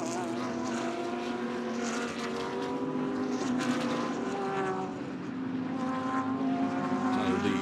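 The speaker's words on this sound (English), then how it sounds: "the battle between the two Mercedes-Benz cars" Mercedes-Benz GT3 race cars in an ADAC GT Masters race at Oschersleben, engines roaring steadily and continuously at close range, with rising and falling engine notes as the cars pass and chase each other.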